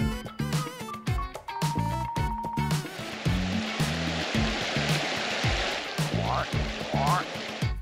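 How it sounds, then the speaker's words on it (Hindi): A waterfall passed on a summer hike sends up a loud, steady rush of water, kept under a rhythmic music beat after a short musical opening. "हम अभी एक आबशार से गुजरे हैं।"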